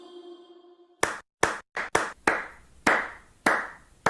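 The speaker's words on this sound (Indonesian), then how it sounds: "Tadi saat kita semua bertepuk tangan juga berbunyi" Hand claps in a classroom setting, a series of about seven sharp, separate claps after a short tonal passage, spaced unevenly and fairly close, with no talk over them.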